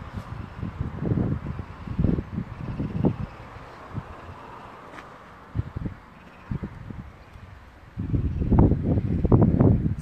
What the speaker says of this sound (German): Etwas windig.